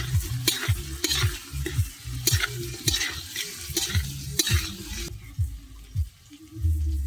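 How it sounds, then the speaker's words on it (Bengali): Boiled and fried potatoes for biryani are stirred in a pan with spices, a soft sizzle under repeated scraping strokes of a spatula in a loose rhythm, close by, with no speech. "বিরিয়ানির জন্য আলু বাড়িতে সিদ্ধ করে এখানে ভেজে নিয়েছিলাম, সেই আলুটা দিয়ে দেবো ভালো করে। এবার কষিয়ে নেব।"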